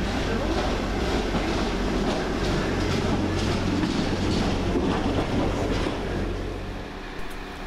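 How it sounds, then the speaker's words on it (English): A class 139 railcar, unit 139002, pulls out of Stourbridge Junction station with a steady loud rumble and clickety wheel noise that fades slightly toward the end. "there goes 139002 with a nice little toot, working the 11:15 service to Stourbridge Town"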